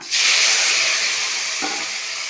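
Tomatoes tip into a pan of garlic tempering in hot oil, setting off a sudden loud hiss that slowly fades, with a brief stirring clatter near the end.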